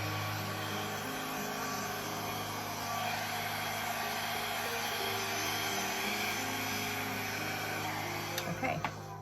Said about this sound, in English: I'm going to use my dryer and I'm going to push the paint kind of over both edges